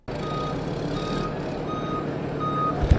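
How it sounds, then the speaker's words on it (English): A fuel truck backing up to a gas station to fill the tank, its reversing beeps sounding in an evenly spaced repeating pattern over a steady engine rumble, with a brief thump near the end. "That's a fuel truck backing up, getting ready to fill the tank with gas"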